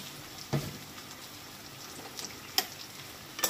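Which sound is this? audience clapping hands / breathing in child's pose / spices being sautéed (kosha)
spices being sautéed (kosha)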